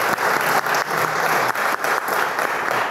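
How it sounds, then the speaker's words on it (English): An audience at an urban health panel discussion claps steadily and loudly, with dense, sustained applause and no voices over it. "So a round of applause for this key example."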